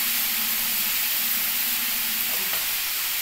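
Chopped onions fry in a pan for a vegetable curry, giving a steady, close sizzling hiss that holds for about three seconds with no talking.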